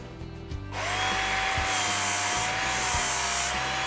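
A kitchen knife sharpened on a powered belt sharpener: the belt motor spins up into a steady rasping whir, with rhythmic grinding strokes as the blade passes across the belt, close and fairly loud.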